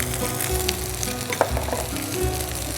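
Nasi goreng is stir-fried in a hot pan as ingredients are added, giving a loud, continuous sizzle broken by clinking, scraping strokes of the spatula, with no voices.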